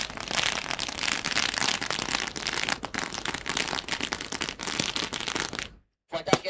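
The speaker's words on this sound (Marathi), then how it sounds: "फटाक्यांच्या आतिषबाजीमध्ये प्रीतम दादा म्हात्रे साहेबांचं स्वागत आपण या स्पर्धेच्या माध्यमातून मात्र या ठिकाणी करतोय" Firecrackers burst in a rapid, continuous crackling barrage to welcome a guest at a village cricket tournament. The loud volley runs for about six seconds, cuts to silence, then a few final pops follow.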